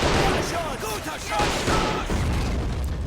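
Anti-tank guns fire in a Men of War: Assault Squad battle, a dense run of loud overlapping gunshots and booms with chatter-like bursts under them, continuous for about three seconds.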